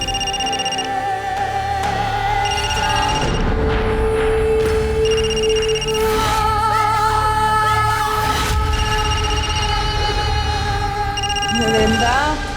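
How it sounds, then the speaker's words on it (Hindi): A telephone rings in repeated short bursts of electronic trilling with pauses between, loud and near, over a dramatic music score, in a Hindi crime-drama scene. "देख क्यों नहीं रही किसका फोन है? कब से बजे जा रहा है"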